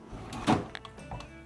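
Drawers in a hotel room at a boarding house slide open and shut, a short quiet run of wooden rubbing and a soft bump, fairly close and with no talk over it.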